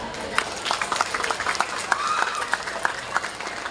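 Applause from students for their teachers in a school classroom gathering, a dense, steady wash of many hands clapping with crowd noise throughout, fairly close and even in loudness.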